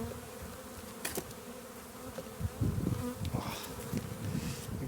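Honeybees buzz in a dense, close hum on a hive frame during a spring inspection, with a few louder swells and brief clicks from handling the frame.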